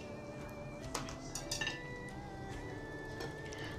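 A utensil stirring boiling broth in a pot for Chinese-style wonton noodle soup, with soft intermittent clinks and scrapes of metal against the pot, faint and alone.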